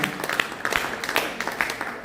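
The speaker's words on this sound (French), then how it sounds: "Nous applaudissons aussi." A church congregation applauds as a pastor rises to be received, giving a short spell of scattered, uneven clapping with distinct individual claps standing out.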